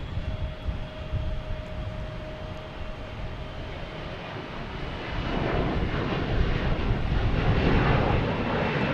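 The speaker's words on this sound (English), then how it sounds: "Coming in from Amsterdam, a 787." A KLM Boeing 787 arriving from Amsterdam at Boston Logan Airport, its jet engine roar heard from a distance, growing louder toward the end as the aircraft approaches, with no one speaking.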